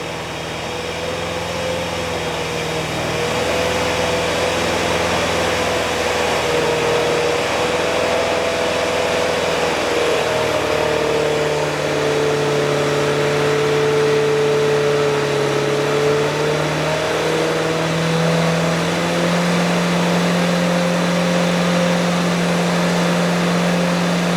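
A junkyard Ford 289 V8 that sat for over 45 years runs under throttle on a dyno, a loud sustained engine drone whose pitch climbs and holds as load and revs rise.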